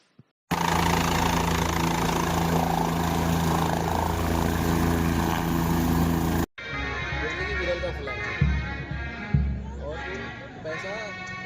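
A helicopter engine in flight drones loudly and steadily for about six seconds, then cuts to a quieter engine hum with voices talking over it.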